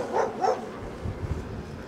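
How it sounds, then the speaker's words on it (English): Two quick dog barks at moderate distance, one right after the other, followed by a low rumbling background. "I hear a dog barking."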